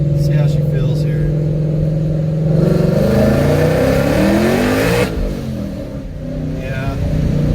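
A Procharger-supercharged car accelerates hard, its engine roaring up through the revs with supercharger whine and tire spin, loud and close before easing off, with a voice talking over it.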